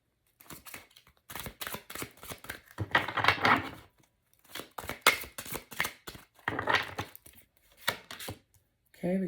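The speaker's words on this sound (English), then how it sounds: "Next, we're going to shuffle the tarot here." A deck of tarot cards is shuffled by hand at close range. Several separate bursts of riffling and slapping card noise are broken by quiet gaps, with no voices.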